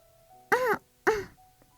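Two short, deliberate throat-clearing sounds performed by a voice actor in a Korean audiobook of The Little Prince, with a brief pause between them, close and fairly loud against a quiet background.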